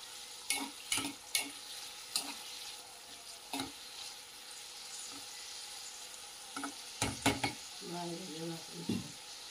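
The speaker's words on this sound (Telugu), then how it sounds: "ఉల్లిపాయలు వేసేసి మంచిగా ఫ్రై అయ్యేలా చేసాము ఎండు చేపల్ని" Dried fish and onions fry in a pan with a steady sizzle, broken by several sharp scrapes and clatters of stirring and a brief voice near the end.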